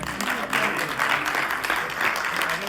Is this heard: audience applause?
yes